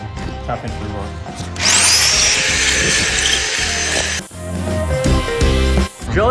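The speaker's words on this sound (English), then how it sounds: "Drilling holes to put rebar in" Power drill boring holes into concrete for rebar at a fixer-upper, a loud continuous grinding whir of about two and a half seconds that stops abruptly, framed by close, steady talk before and after.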